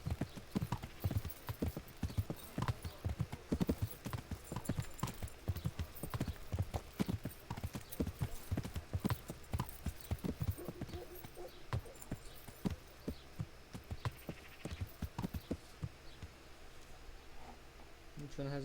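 Horse hooves clip-clopping steadily in the medieval game Kingdom Come: Deliverance, a continuous trotting rhythm with voices talking over it.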